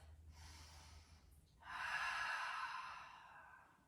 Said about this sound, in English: Take a full deep breath.